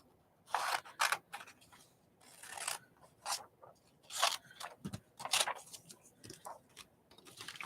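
Scissors snip through glossy magazine pages as pictures are cut out, a close, quiet series of irregular crisp cuts with short pauses between them and no talking.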